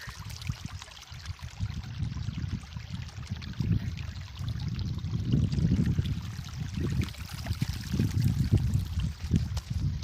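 Irrigation water rushes along an earthen channel through a cotton field, a continuous close gurgling and churning flow that swells and eases in loudness, with no talking over it.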